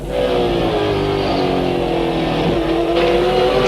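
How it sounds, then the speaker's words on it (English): A race car engine at the Albert Park circuit in Melbourne drops in pitch as the driver brakes hard and downshifts through the gears into second, loud and close, with a brief rev blip near the end. "Heavy braking now. All the way back down into second gear."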